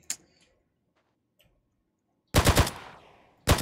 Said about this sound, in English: Oh, it's another SMG.